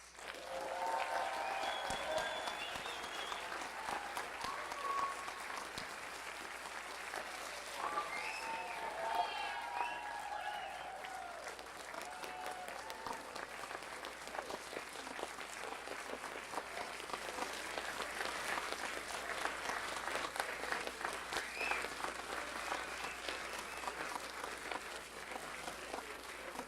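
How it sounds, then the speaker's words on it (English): Sustained applause from a graduation audience honouring undergraduate graduates, a long even wash of clapping heard from a distance, with faint murmurs and small sounds mixed in. "one final round of applause for our graduates."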